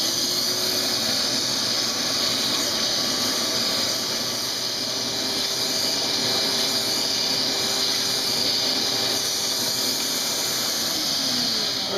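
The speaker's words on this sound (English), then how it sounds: "we're just going to sit there and vacuum each one of these little fins with a vacuum attachment like this" A vacuum attachment runs over the fins of an aFe air filter, producing a continuous steady hiss and whine that holds at an even, close level throughout.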